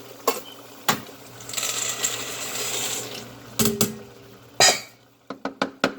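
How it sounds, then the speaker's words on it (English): Penne pasta dropped into a pot of simmering water, heard as several sharp clattering splashes and knocks with a short stretch of bubbling hiss between them, close by. "I'm going to drop in my pasta."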